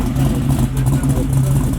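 Small block V8 in a Buick Regal rumbling through its muffler, a loud, steady, mellow low burble at close range, with voices talking over it.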